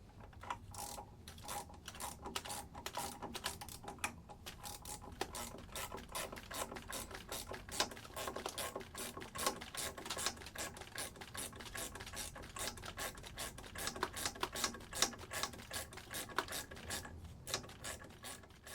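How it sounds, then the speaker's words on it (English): A 9/16 wrench ratchets the threaded bolt of an ImpelPro impeller puller on a boat engine in a cramped engine room, giving a fast, continuous metallic clicking that stays close and even throughout, with no talking. "Go ahead and grab our 9/16. Start winding it in."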